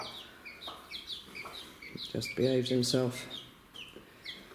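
A rooster kept with a group of hens, clucking and calling in short bursts, with a louder run of clucks in the middle, while someone talks over them.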